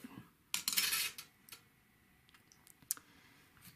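Pliers or cutters trimming excess copper wire from a loose twist in a bow tie chain, giving a few sharp metallic clicks and snips, close and fairly quiet, with no talking.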